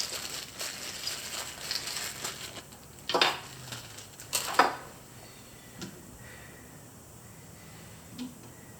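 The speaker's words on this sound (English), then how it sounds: "an Allen screw, a locking screw goes on here" Metal Allen locking screw being fitted on a Parco Trinoc scope, with small scattered metallic clicks and taps, two sharper clinks near the middle, then quieter ticks.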